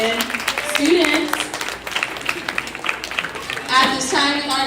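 Applause from an audience at a kindergarten awards ceremony, a light clapping patter running under steady talking and voices throughout.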